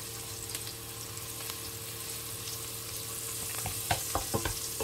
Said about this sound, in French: j'ai mis les oignons, l'ail et le poireau que j'ai bien mélangé. Maintenant, on va mettre notre bouillon à l'intérieur.